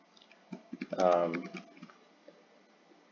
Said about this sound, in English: I'm just going to type in your name